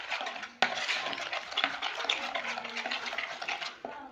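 A spoon stirs flour into sponge cake batter in a bowl, with soft repeated scraping and clinks against the bowl, quiet and close, with no voices.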